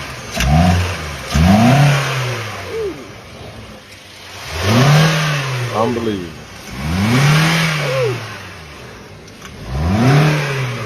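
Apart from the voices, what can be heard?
damaged car engine revving and running rough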